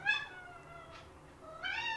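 A pet cat meows indoors in two drawn-out, tonal calls at the start and end, moderately close and fairly soft, with a fainter chirp between them and no talking.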